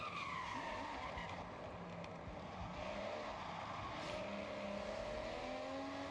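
A Ferrari 250 GTO in the Forza Horizon racing game drives continuously, its engine note rising and falling with gear changes and tires squealing and skidding, loud and steady throughout.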